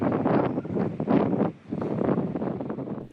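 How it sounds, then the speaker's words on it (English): Strong, gusty storm wind roars into the microphone in heavy buffeting bursts at Green Turtle Cay, Bahamas, with a brief lull midway before it surges again. "That's what happens when you're waiting out a storm. It's too windy."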